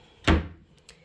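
Drawer in a craft room pushed shut, a single short wooden thud followed by a faint light tap, close and clear in a quiet room.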